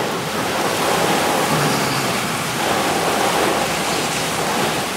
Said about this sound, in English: That is torrential rain.